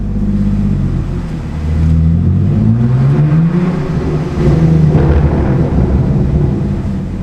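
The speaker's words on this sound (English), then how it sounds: "Let's get some more backfires going through the tunnel again." A straight-piped car driving through a tunnel, its exhaust booming in a deep, loud, reverberant drone that rises and falls with revs and has low rumbling pops; close and continuous, no talk.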